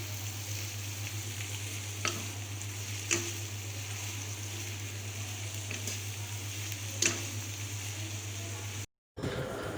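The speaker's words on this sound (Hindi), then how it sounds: "अब इसमें शिमला मिर्च ऐड कर दी हैं, इनको भी हल्का फ्राई कर लेंगे।" Carrots and capsicum fry in a pan for restaurant-style egg fried rice, giving a steady close sizzle with a few sharper stirring clicks and one brief dropout near the end.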